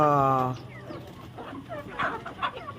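A native country hen lets out a loud, drawn-out cluck up close, then quieter scattered clucks and chirps follow.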